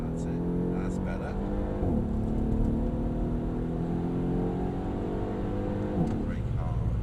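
A Mercedes-Benz E63 AMG on the track at Mercedes-Benz World in Brooklands, its engine droning steadily at close range as it accelerates, with a slight rise in pitch and road and wind noise throughout.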